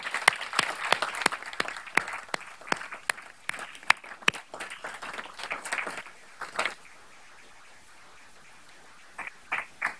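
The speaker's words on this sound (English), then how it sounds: "I would love to give you a round of applause and thank you for everything that you've done" A sparse round of applause from a small board meeting audience, a handful of distinct claps that thin out and fade, then a short final patter.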